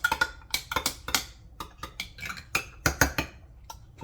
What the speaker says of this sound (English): You can give it a little stir.